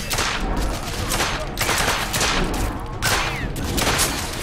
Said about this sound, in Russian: Я под обстрелом!